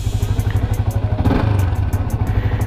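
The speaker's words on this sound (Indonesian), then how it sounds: "mesin masih enak, sekali pancal langsung hidup ya" Modified Yamaha Vixion motorcycle with a cold engine idling steadily at high revs, a close, loud, even throbbing putter with a light metallic clatter and a brief swell in the middle.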